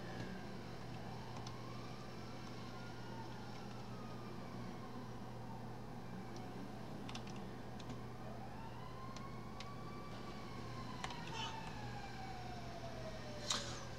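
In GTA 5, a fire engine siren sounds softly in the distance, its long wailing sweeps rising and falling over a steady low drone, with a few brief clicks near the end.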